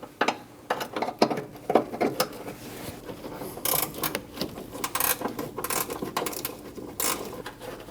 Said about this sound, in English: I'm going to use a 13mm wrench and reach all the way down to the bottom nut for the horn